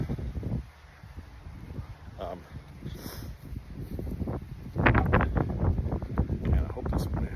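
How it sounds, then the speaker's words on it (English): Gusty wind buffets the microphone on an outdoor tennis court, a steady low rumble that surges louder in the second half, with a voice talking faintly underneath. "Hope you can hear me through this wind"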